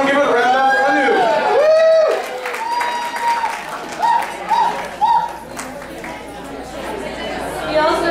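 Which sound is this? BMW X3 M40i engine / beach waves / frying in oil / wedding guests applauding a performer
wedding guests applauding a performer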